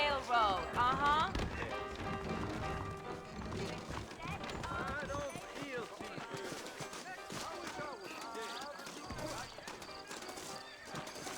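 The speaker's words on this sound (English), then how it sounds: "I got the horses saddled up and ready out front." Horses in the video game Red Dead Redemption give a rhythmic run of hoof clip-clops with occasional whinnies, set under game music and character dialogue at a moderate, fairly distant level.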